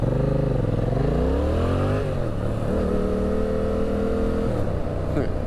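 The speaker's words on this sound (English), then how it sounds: "a sport bike" A sport bike motorcycle passes by, its engine note sliding in pitch as it approaches, revs and moves away, loud and close against steady road noise.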